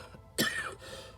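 A single harsh cough, close and fairly loud, from someone getting over an illness, with a brief rasp before it and quiet afterward.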